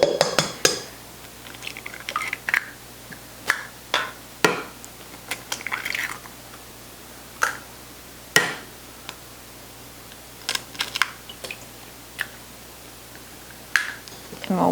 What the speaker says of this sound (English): So in a bowl we'll put 3 eggs